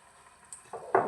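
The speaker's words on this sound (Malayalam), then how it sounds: "അരപ്പ് നന്നായിട്ട് തിളക്കട്ടെ" Fish curry masala paste bubbles in a pot as a few soft, short, close sizzling bursts that grow slightly louder toward the end, heard alone.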